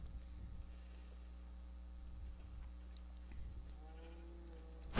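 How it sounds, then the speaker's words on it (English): Sheep in the video game Minecraft, a few faint bleats heard over a steady low hum. "Sheep."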